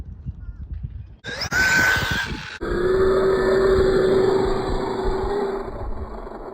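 A Jiusi PT14R budget RC truck tears along off road, its electric motor whining loudly and rising in pitch as it accelerates, with rough crunching from the ground underneath.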